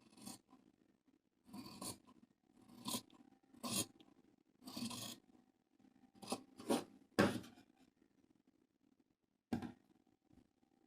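Fabric being cut with scissors while sewing a child's night dress, heard as a series of close, crisp snipping and rasping strokes in irregular bursts, with quiet pauses between cuts and no talking.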